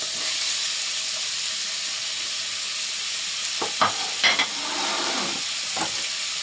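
Shallots, onion and celery sizzle in melted fat in a pan for a creamy cider rabbit stew. There is a loud, continuous hiss of frying, with a few soft stirring knocks partway through and no voices.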